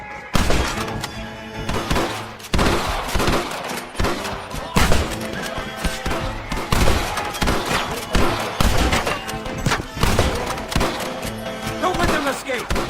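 Gunfire rattles through a Western shootout in Red Dead Redemption as lawmen fire on snipers in windows: dense, repeated shots and thuds over a busy orchestral score, with shouted voices mixed in.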